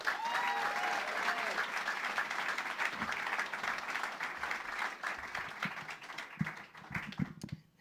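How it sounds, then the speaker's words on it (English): Audience applause for a presenter named Robin at a talk, a dense sustained patter of many hands that carries the whole stretch and thins toward the end, with faint voices mixed in. "So if you give an applause for Robin."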